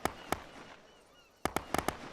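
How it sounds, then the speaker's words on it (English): Friendly gunfire cracks during counter-ambush training, two distant shots, a quiet pause, then a quick burst of four or five sharp reports, with no talk. "Listen to the gunfire."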